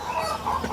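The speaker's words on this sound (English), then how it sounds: "So you also have chickens, people can hear them in the background." Chickens cluck softly in the background on a small farm, a brief murmur of low calls with no talking over it.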